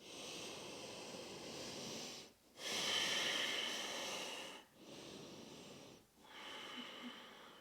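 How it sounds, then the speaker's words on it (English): Three deep, slow breaths during yoga while holding downward-facing dog, each a long airy inhale or exhale with brief pauses between, soft and close. "3 deep breaths."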